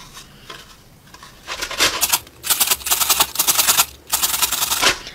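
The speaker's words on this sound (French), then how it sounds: "Donc vous allez d'abord râper l'oignon." An onion rubbed against a hand grater in bursts of rapid rasping scrapes, close and fairly loud, with short pauses between strokes.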